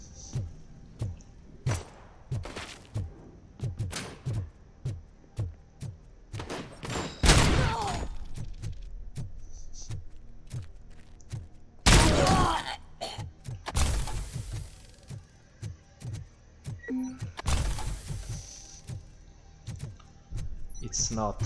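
Automatic gunfire in the Robocop Rogue City video game: long rapid bursts of shots mixed with sharp impact cracks, loud and close, with short gaps between strings of fire.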